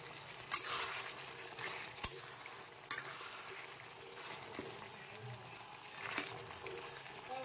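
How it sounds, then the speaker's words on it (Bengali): Mutton curry sizzles steadily in a pan as fried potatoes are added, with a few sharp clinks and scrapes of stirring over the continuous frying hiss. "আমি এখন আলুগুলো যেগুলো ভেজে রেখেছিলাম ওগুলো দিয়ে দেবো।"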